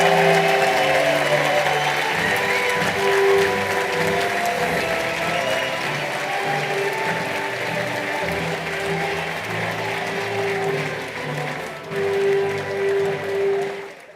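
Graduation audience at Universidad EARTH in Costa Rica applauds for the flag, sustained clapping from a large crowd mixed with tonal music or hum, fading somewhat toward the end.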